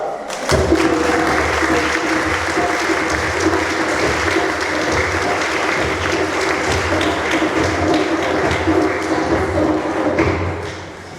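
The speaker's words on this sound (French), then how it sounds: "Vous nous applaudissez une dernière fois" A congregation at a church Mass applauds steadily for about eleven seconds, dense clapping with a few rhythmic thumps underneath, fading slightly at the end.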